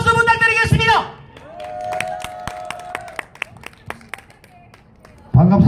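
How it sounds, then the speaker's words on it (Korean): Sparse, scattered claps from a crowd at an outdoor patriotic rally in Daegu, fairly close and uneven, following a speaker's amplified voice, with a faint sustained tone in the background. "여러분 뜨거운 박수 부탁드리겠습니다."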